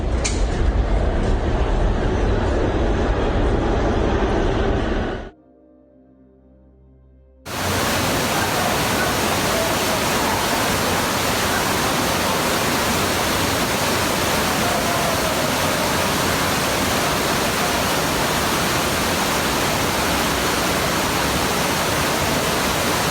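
Rainwater floods into the 28th Street subway station in New York City during a cloudburst, a dense, continuous roar like a waterfall that drops out briefly before returning, loud and steady throughout.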